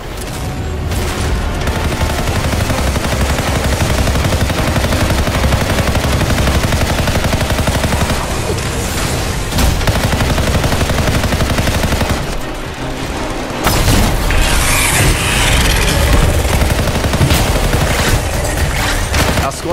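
Heavy weapon fire and mortar blasts in the sci-fi shooter Anthem, a dense, loud, continuous barrage of rapid shots and booming explosions that runs almost without a break, with no voices.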